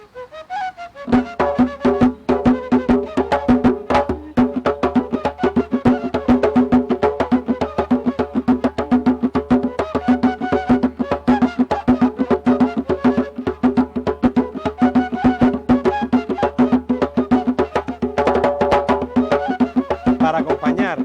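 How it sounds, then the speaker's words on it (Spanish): Tambor alegre, a single-membrane conical drum played with both hands, beats a steady, dense rhythm of hand strokes throughout, loud and close, with sustained tonal accompaniment underneath in a cumbia gaita setting. "El tambor alegre suena así."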